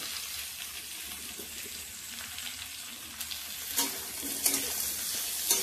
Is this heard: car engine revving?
no